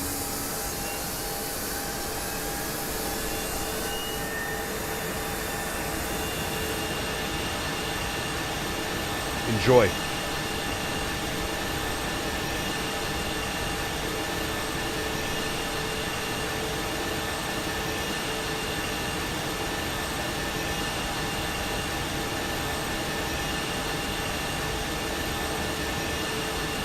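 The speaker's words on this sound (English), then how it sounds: "Let's go ahead and start engine number 2." Engine number 2 of an Airbus A220 in a flight simulator game spins up as a steady, loud whine and roar with tonal hums throughout, broken by one brief click-like burst partway through, and someone speaking briefly.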